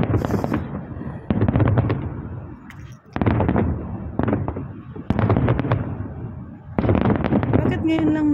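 Repeated bursts of fireworks crackle and boom in clusters, loud and close, with brief pauses between volleys and faint voices in the background.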